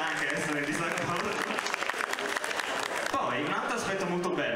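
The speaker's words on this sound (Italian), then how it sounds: "Un applauso a Andrei che è d'accordo con noi." A burst of clapping from a small crowd at a cosplay talk at a comics festival, steady throughout, with voices talking over it.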